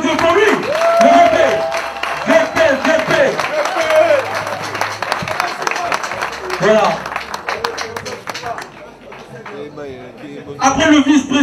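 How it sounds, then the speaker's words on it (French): A crowd at a fan club launch event in Pointe-Noire applauds the fan club's vice-president, loud clapping swelling and thinning, with an amplified voice speaking over the applause and a strong tonal hum at times. "On va applaudir pour lui."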